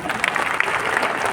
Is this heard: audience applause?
yes